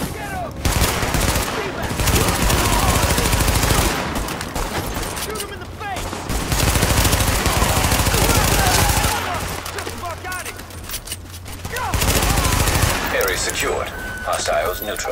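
Sustained bursts of automatic gunfire from Tom Clancy's The Division, loud and dense, coming in three long volleys separated by brief lulls, with battle noise filling the gaps.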